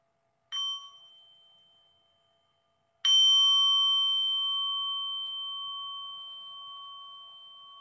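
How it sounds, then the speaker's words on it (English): A bell is struck twice, a short ring first and then a stronger one, each a clear pure tone. The second ring hangs on and decays slowly into silence. "Let's have a sound of the bell and catch our breath before we go on to Anneke."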